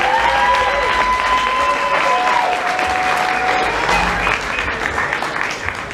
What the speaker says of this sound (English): please give our entire staff of volunteers a big round of applause